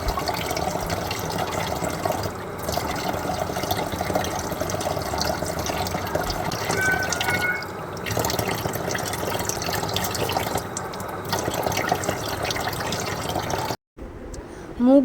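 Tap water runs steadily at close range while a face is rinsed at a sink, a continuous splashing wash that stops abruptly near the end.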